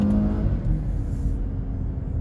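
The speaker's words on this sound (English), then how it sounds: "I'm going to go kind of do a hard acceleration here." A 2020 Volvo S60 R Design accelerates hard with a low, steady engine rumble heard from inside the cabin, moderately loud and with no talk.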